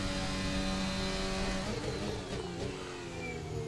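An F1 2024 race car engine revs hard in a racing video game at the São Paulo circuit, a loud sustained high-pitched whine that holds steady, then shifts and dips slightly toward the end, with no talk over it.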